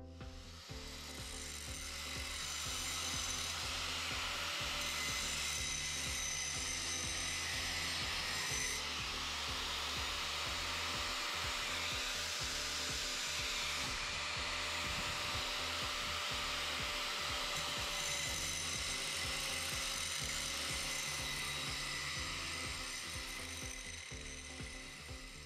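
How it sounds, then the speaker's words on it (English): An angle grinder cuts a V-groove into galvanized steel on a vehicle chassis bracket, giving a loud, steady, continuous grinding whine with a rough scraping texture that holds throughout at close range. "I'm just going to try it with the actual angle grinder, see what that looks like."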